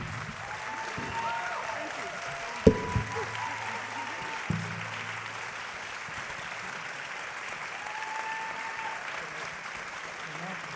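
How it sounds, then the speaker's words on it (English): Audience applause after a film Q&A at Ebertfest fills the room as a steady, moderate wash of clapping with a couple of sharp knocks, while a voice speaks faintly over it. "Let's stand so they can give you a big applause."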